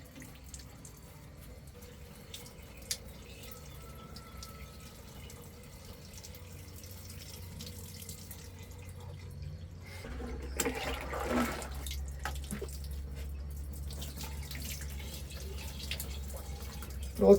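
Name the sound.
water leaking out while bleeding air from sprinkler irrigation system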